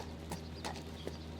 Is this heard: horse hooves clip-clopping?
yes